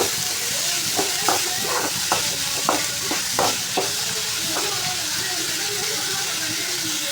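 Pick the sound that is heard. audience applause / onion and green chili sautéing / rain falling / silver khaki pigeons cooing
onion and green chili sautéing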